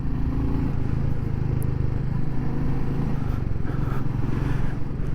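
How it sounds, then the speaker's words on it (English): Motorcycle engine pulling steadily while climbing a hill on a windy day, a continuous loud drone with wind buffeting throughout and no voices. "going up the hill, I mean, you can feel the motor steadily climb"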